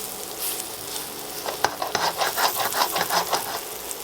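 Raw beef pieces sear in hot oil in a pan for a pot roast, giving a steady sizzle that swells into crackling, popping bursts as the meat settles, close and moderately loud with no talking.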